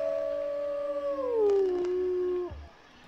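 A wolf in the video game WolfQuest gives a single long, clear howl that slides downward in pitch and then cuts off, close and loud with no talking.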